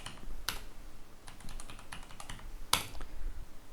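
Computer keyboard being typed on to enter a command, a quick burst of soft key clicks with a few sharper taps, close and quiet.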